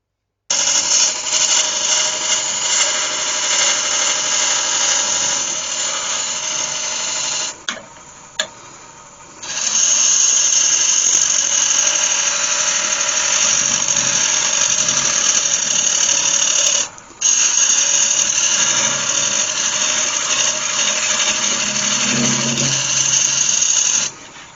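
Wood lathe cutting a recess into the underside of a cherry wood pot turned from a tree trunk, a loud steady hiss of the tool on spinning wood with two brief pauses, close and continuous.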